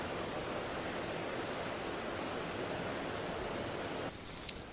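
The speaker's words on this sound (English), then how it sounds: "I was genuinely concerned that you wouldn't be able to hear me over the noise of the waterfall" Broad, steady rushing roar of falling water, constant and fairly loud throughout, with no voices.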